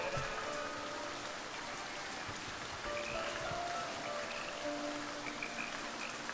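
Steady rain falling over the medieval village-building game Foundation, a dense, even hiss with scattered drops that runs throughout without pause, moderately faint, with no talk over it.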